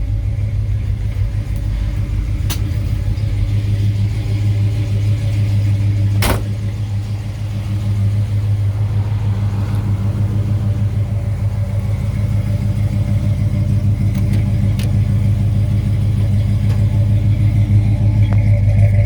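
A 454 V8 engine in a 1955 Chevrolet 210 rumbles loudly and steadily nearby, a deep idling growl with only slight swells in level throughout.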